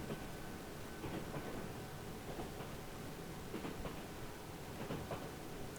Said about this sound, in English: the train pulled further out of the station, starting to slowly pick up speed